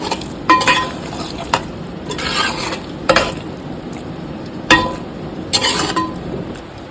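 Banana pieces being gently folded into curry masala in a pan for a tamarind banana curry, with a spoon scraping and clinking against the pan in several separate strokes over a soft background sizzle.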